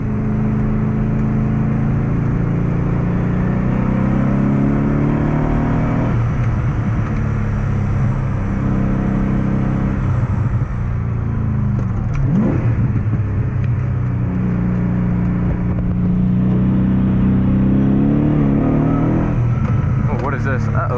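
A BMW E30 fitted with an M60 V8 pulls hard up a winding mountain road, heard from inside the cabin as a deep, loud engine rumble rising and falling through the corners, with someone talking over it.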